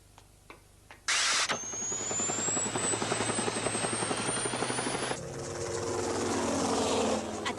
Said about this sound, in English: I'll fire up the helicopter